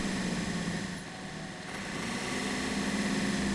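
A vehicle drives down a dirt road toward a creek, a steady low engine drone heard from inside, constant and moderate with a slight dip midway.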